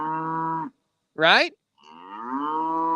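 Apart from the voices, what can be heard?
fussy cow mooing and whining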